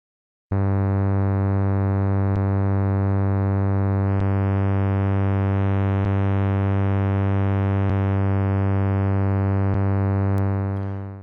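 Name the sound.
synthesizer single note, phase distortion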